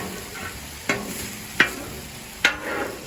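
Mushrooms sizzle in butter on a Blackstone griddle, a steady frying hiss broken by three sharp scrapes of a spatula stirring them, close and moderately loud.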